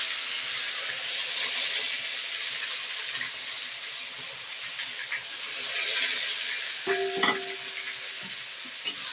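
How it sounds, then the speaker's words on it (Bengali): Ginger-garlic paste and bay leaves frying in hot oil, a steady soft sizzle running throughout with occasional stirring scrapes and a brief clink of a utensil near the end. "আদা রসুন বাটাটাকে একটু ভালো করে ভেজে নেব।"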